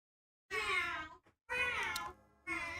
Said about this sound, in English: Yeah, they're meowing.